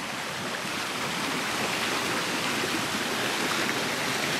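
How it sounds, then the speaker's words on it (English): Water from a feature at a newly built backyard pool splashes down steadily, a loud continuous rushing wash with no pauses or talk. "I went ahead and turned on the water feature. As you can see there, got the water splashing down."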